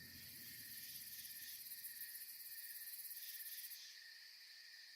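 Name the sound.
crickets chirping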